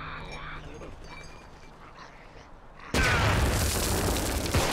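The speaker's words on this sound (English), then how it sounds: "I guess I'll throw this grenade now that I'm not gonna need it" A grenade goes off in the video game Contagion: after a few quieter seconds, a sudden loud, broad blast hits and its roar fills the rest of the moment, close and heavy.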